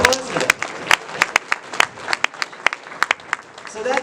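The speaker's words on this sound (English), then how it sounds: "Yeah, big applause for that." Scattered, sharp hand claps from a crowd at a 15th anniversary celebration party, close and uneven, with distinct individual claps popping out of a thinner spread of applause.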